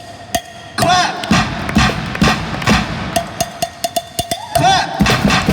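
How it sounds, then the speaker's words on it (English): A theme-park street show on a rhythm truck at Universal Studios Singapore: audience clapping in bursts alongside banged drums, sharp percussive hits recurring in a loose rhythm, with a performer's voice between them. "We need you to clap your hands."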